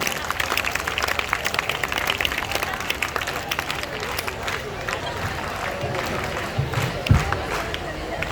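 An audience claps together at the close of a school science exhibition, a steady roar of applause and crowd noise that runs throughout with voices mixed in.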